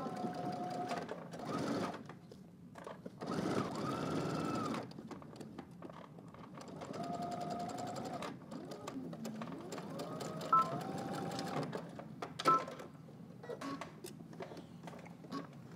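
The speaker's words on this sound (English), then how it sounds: "we're going to backstitch at the beginning and also at the end" A sewing machine backstitches a seam on jeans in fast, quiet whirring runs broken by short pauses, close and faint, with no talking.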